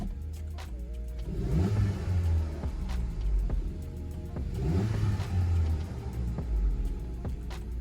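VW Golf MK7.5 1.4L TSI turbo engine with an aftermarket turbo inlet pipe and hose, revving up twice in two rising pulls with a rumbling note, close and fairly loud, easing back between them.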